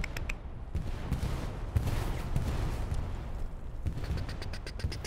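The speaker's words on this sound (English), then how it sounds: "Katusha coming in though." Katyusha rocket artillery barrage in Hell Let Loose, a World War II shooter, with rockets raining down on an objective; a steady rumbling wash of distant explosions and crackling impacts, with sharper close blasts scattered throughout.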